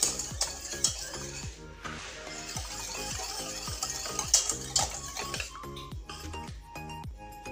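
Lemon cream mixture cooking in a saucepan is stirred in a quick, steady rhythm, each stroke a close scraping clink against the pan over a faint bubbling, with no talking.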